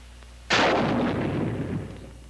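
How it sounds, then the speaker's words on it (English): A bazooka rocket is fired by a team in a screened position, producing a single sudden loud blast that rolls into a long, fading rumble, with no other sounds around it. "The same team is firing here, but they're properly screened and you can't spot them."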